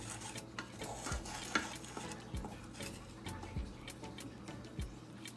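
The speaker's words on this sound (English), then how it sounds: "Mixing everything together." A utensil stirs honey BBQ wing ingredients together in a bowl with soft scraping and faint, regular clinks that tap roughly once a second.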